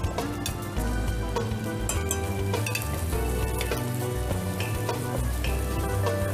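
Onion and garlic sizzling in butter in a pan, a loud continuous crackling fry with scattered sharp pops and light clinks of stirring throughout, no voices.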